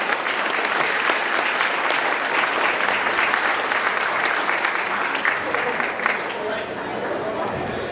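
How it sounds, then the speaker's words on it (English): Applause from a boxing crowd for a fighter, a loud, sustained wash of clapping with cheering and chatter underneath that eases slightly toward the end. "let's have a round of applause for Mr."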